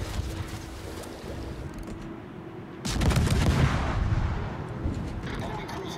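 Missiles launch from a warship in the World of Warships video game, a sudden loud booming rush of fire after a quieter stretch of engine and sea rumble, then a sustained roaring tail.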